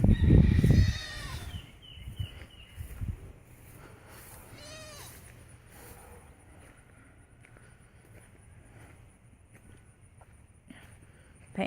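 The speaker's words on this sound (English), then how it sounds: "So now we have a Kiko goat." A Kiko goat bleats loudly nearby, twice in a few seconds, followed by a long quiet stretch of faint outdoor background.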